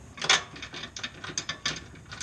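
Ratchet clicking in quick short bursts, close up, as it drives a bolt while installing a tow hitch on a Kia Soul.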